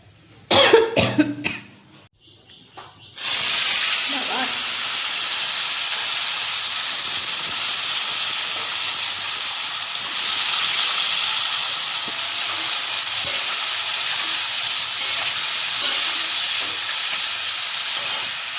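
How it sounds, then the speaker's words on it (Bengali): A few sharp coughs open, then eggplant frying in oil in a steel wok gives a loud, continuous, close-up sizzling hiss that holds steady to the end without talk. "এই কড়াইতে বেগুন ভাজা করছি"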